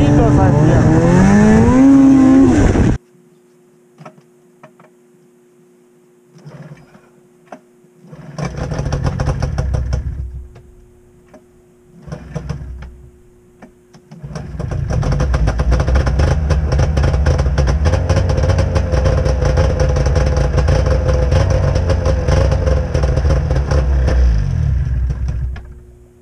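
A 1998 Arctic Cat snowmobile engine revs up hard, cuts out abruptly, then sputters and stumbles through several short hesitant bursts before catching into a sustained loud, rough running roar.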